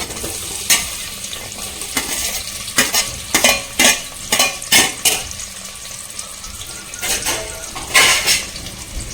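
Onions stirred and frying in hot oil for mutton fat biryani, a steady sizzle broken by bursts of stirring and utensil scrapes, close and fairly loud, with no talk.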